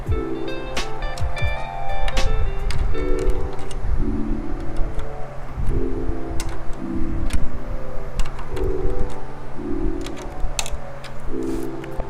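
Drum tension rod lugs turned by hand, giving a series of small ticking, clicking turns with scattered taps, close and fairly loud throughout.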